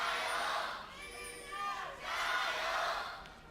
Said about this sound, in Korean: 순식간에 그 중국의 함성이 현장을 좀 뒤덮고 있습니다.